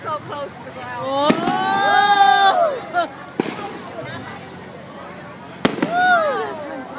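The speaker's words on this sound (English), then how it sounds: "Oh, I love fireworks." Fireworks at a Diwali festival grand finale in Shreveport burst loudly with whistling rises and sharp cracks, a few separate explosions close by, while spectators exclaim and chat excitedly throughout.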